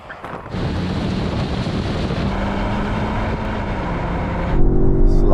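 Several hot hatchbacks, including a Mercedes-AMG A35, VW Golf R, Honda Civic Type R, Audi S3 and BMW M135i, accelerate together off the line in a drag race, a loud sustained engine roar with rising gear tones, mixed with wind buffeting.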